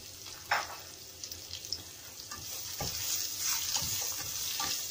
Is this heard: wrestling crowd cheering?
no